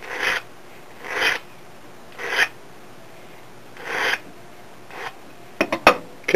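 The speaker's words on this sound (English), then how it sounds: "when you grind them down, to get them flat" German silver and brass wire ends are ground flat with a rasping stroke, four or five separate scrapes at steady intervals, then a few quick, light taps and scratches close by.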